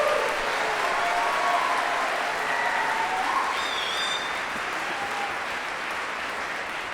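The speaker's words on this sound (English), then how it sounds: "Just give them another round of applause for their hard work." A high school fine arts festival audience applauds the performers at a jazz concert, with steady, dense clapping that fills the room at even loudness from start to finish.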